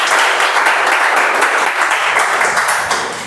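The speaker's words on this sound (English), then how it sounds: "So a big round of applause to" Members at a Toastmasters club meeting give a loud, full round of applause, many hands clapping densely and close throughout, tapering slightly at the end with no talk over it.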